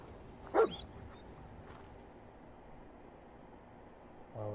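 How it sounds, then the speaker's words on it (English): A dog in the Fallout 4 video game gives a single short, loud bark near the start, then quiet ambient game sound follows with a faint tone at the end. "Oh my god, it's my dog."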